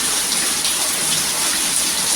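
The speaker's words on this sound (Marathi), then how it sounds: "पाऊस काही कमी नाही" Heavy rain pours steadily, a dense close hiss of water with no pauses and no voices.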